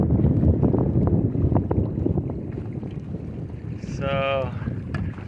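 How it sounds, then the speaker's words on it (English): Strong wind buffets the microphone steadily on the Colorado River during a small motorboat ride with a 50-thrust motor on choppy water, with a brief tonal whine near the end. "it is getting windy and a little bit choppy out here on the river."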